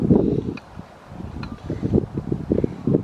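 Gusty outdoor wind buffeting the microphone while a fire starter is lit with a ferrocerium rod, a steady rough rumble swelling and easing throughout.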